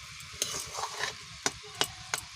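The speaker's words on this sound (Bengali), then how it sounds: "এভাবে খোলা অবস্থায় আমরা কিছুক্ষণ ভেজে নেব চচ্চড়িটাকে" Malabar spinach chorchori with soft potatoes fries uncovered in a pan, a low steady sizzle broken by several sharp spatula scrapes and taps against the pan at irregular intervals.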